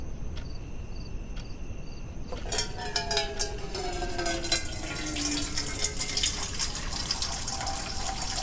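Water pours steadily from a dispenser into a cup, its pitch rising as the cup fills. Faint insect-like chirping comes first, and no one speaks.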